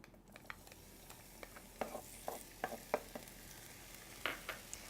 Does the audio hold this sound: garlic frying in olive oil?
yes